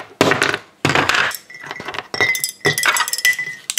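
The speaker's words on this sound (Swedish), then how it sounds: "Sådär, nu är det massor med isbitar här inne." A large batch of ice cubes tumbles into a glass of water in several bursts, with bright clinks and rattling as the cubes knock together and against the glass, loud and close, no talking.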